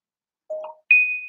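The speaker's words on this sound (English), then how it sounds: "now you made a noise, you weird phone" A mobile phone gives a notification chime: two short bright tones, a lower one followed by a higher sustained one, clear and close with no talk.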